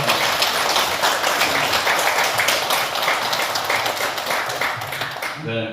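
Audience at a Buddhist temple dharma service applauding a visiting monk: dense, sustained clapping from many hands that tapers off at the end as a voice begins.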